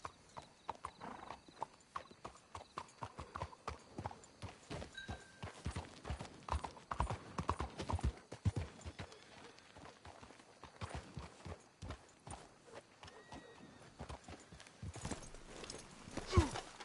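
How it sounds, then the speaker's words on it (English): Horses' hooves clip-clop steadily through a Red Dead Redemption 2 game scene, a busy run of close, crisp hoofbeats with a brief whinny, continuing almost without pause and growing louder toward the end. "Let's hitch the horses up ahead."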